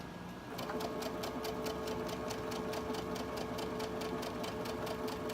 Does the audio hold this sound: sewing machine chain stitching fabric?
yes